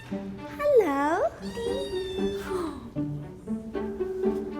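A cat, in a home with Bengal cats, lets out one loud, drawn-out meow with a rising and falling pitch, followed by a person talking softly.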